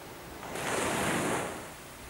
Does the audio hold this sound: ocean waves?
yes